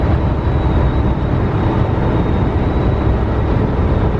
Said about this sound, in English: My truck is whistling again today. Do you hear that?